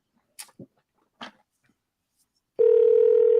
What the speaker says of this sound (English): Can you hear that ringing, Sean?